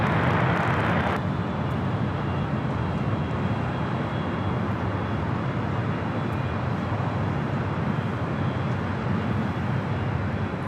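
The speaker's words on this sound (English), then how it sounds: "this flight heading to JFK on this Delta 767-400ER" Delta Boeing 767-400ER jet airliner at LAX, a broad steady roar of jet engines, loud and unbroken, heard from a distance.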